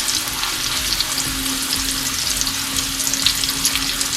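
Bananas sizzling in a frying pan for pancakes, a steady close crackle and hiss of frying with scattered small pops throughout.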